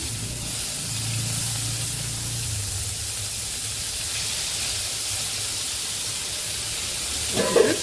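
Curry leaves and onions sizzling in hot oil in a pan, a continuous close hiss with a low rumble early on and a brief clatter near the end.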